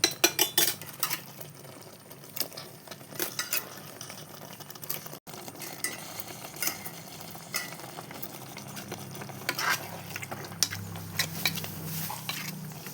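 Chicken is tipped into a cooker of coconut-milk curry gravy and stirred, with a steady run of metal spoon scrapes and clanks against the pot over a faint simmering hiss, and no talk.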